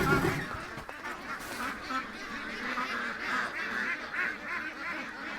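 Ducks quack and honk in a busy, overlapping chatter at moderate distance, continuous over several seconds against outdoor background noise.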